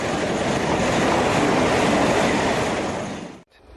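A French SNCF CC 68000 diesel locomotive hauls a train past in a steady, loud roar of rolling wheels and engine that cuts off abruptly near the end.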